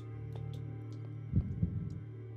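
Low, muffled heartbeat from the Minecraft Decked Out game, two soft thumps near the end over a steady background hum, faint and alone.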